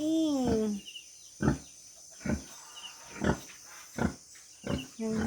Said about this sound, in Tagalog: One pig over here.